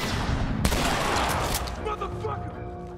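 Rapid gunfire from The Last of Us video game, a dense fusillade of shots with a sharp crack near the start, loud and continuous, then fading into a lingering tail as someone talks underneath.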